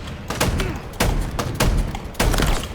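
Shotgun blasts in a video game, four loud heavy booms spaced roughly evenly about a second apart, each with a short decaying tail.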